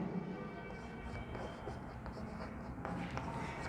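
Chalk or marker scratching across a board during a maths lecture on subsets, soft intermittent strokes heard close over a steady low room hum, with no talking.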